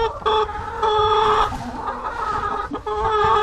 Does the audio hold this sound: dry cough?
no